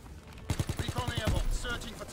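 Gunfire from a WWII-era weapon in Call of Duty: WWII multiplayer, a rapid close burst of about ten evenly spaced shots followed by rattling and clatter, with a voice speaking over it.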